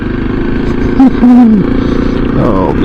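Steady motorcycle engine and wind rumble on a riding microphone, loud and continuous, with a brief rising engine whine midway as the bike accelerates.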